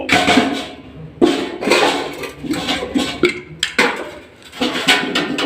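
Large metal cooking pots are scrubbed by hand, with rhythmic scraping and clanking strokes that come in bursts, close and fairly loud.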